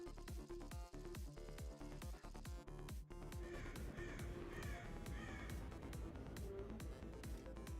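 A person imitates crow caws, making a series of short, harsh cawing calls in a quick rhythm over a busy, low-level game and music background.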